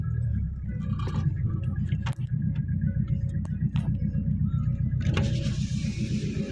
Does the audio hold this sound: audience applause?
no